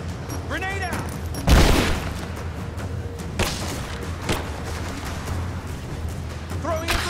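Grenade blast and gunfire in the video game Rise of the Tomb Raider: one loud deep boom rings out, followed by a few sharp cracks and thuds, with a voice briefly heard over a steady game background.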